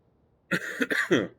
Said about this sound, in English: Whew, I had to cough.